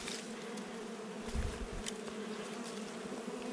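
Bees humming around their nest, a steady close drone with a few louder passes of individual insects, and no talking.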